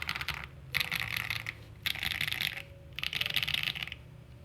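Typing on a Finalkey / Cidoo V65 budget 65% wireless aluminum keyboard, with bursts of rapid, crisp key clacks in three clusters separated by short pauses, close and moderately loud.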